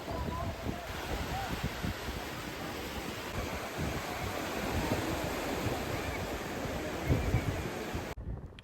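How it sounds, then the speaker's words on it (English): Waves wash in along a packed Sunday beach at Nessebar, Bulgaria, a steady broad rush of surf and wind that blends with the indistinct murmur of a crowd and then cuts off abruptly at the end. "as you can see the beach was absolutely packed"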